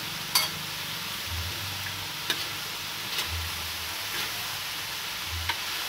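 Winged beans stir-fried in a pan: a steady sizzle under spatula scrapes and light taps against the metal, close up and with no one speaking.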